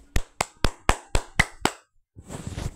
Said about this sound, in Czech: Omlouvám se, co bude zní úplně nepříjemně to tleskání